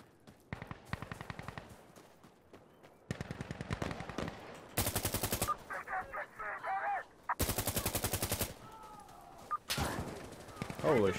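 Automatic rifle fire in Insurgency Sandstorm, likely the L85A2, rattles in rapid bursts of varying length, some sharp and loud, others muffled and more distant, with voices and game effects between volleys.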